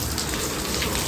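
Steady rain in a village setting, a dense hiss of drops falling on a surface throughout, loud and close with no voices.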